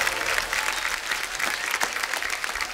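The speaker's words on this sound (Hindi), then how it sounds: "जोरदार तालियां शिल्पा शेट्टी, बादशाह और मनोज मुंतशिर के लिए।" Studio audience on a comedy talk show, The Kapil Sharma Show, bursts into loud, dense, sustained applause and cheering.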